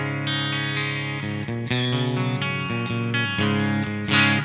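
Electric guitar played through the clean channel of a Revolt amp on the bridge pickup, recorded via a Focusrite Scarlett 6i6 interface: a sequence of ringing notes and chords with bright harmonics, continuous and fairly loud.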